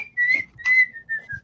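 A person whistles a few short, high notes in a quick broken run, close and clear.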